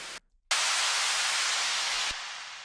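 Downlifter effect for an Afro House track built in Ableton: a loud burst of bright white-noise static after a short gap, holding steady then stepping down and thinning out near the end.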